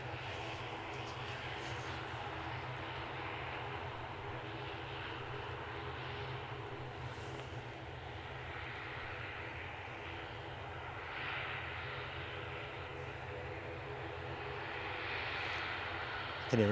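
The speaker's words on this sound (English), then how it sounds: "I can hear another ATR strumming away." Steady droning hum of ATR turboprop engines, probably a Loganair aircraft, at Edinburgh Airport, holding at moderate distance throughout with a faint throbbing beat and a slight swell near the end.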